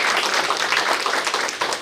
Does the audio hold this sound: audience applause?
yes